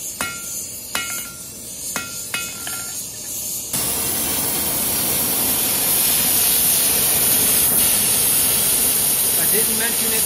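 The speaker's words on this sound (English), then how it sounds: "this is oxypropane that we're using to heat this." A few sharp metallic taps, then a loud, steady roaring hiss of an oxypropane torch flame burning close by, heating bronze.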